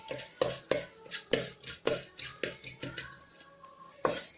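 Fenugreek seeds are fried separately in a pan, with a spoon stirring and clinking against the metal in a quick, uneven rhythm, close and fairly quiet.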